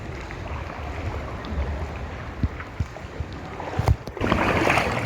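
Small boat motoring over open sea near a cave, a continuous churning hum of engine and water with wind buffeting the microphone, a few thumps and splashes, and louder rushing near the end.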